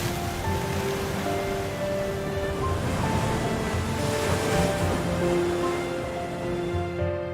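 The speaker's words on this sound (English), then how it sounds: "The uncompromising waves of the Atlantic Ocean break against the majestic cliffs" Atlantic Ocean waves breaking against rugged seaside cliffs on the Canary Islands shore, a steady, full roar of surf with continuous wash and wind, loud and unbroken throughout.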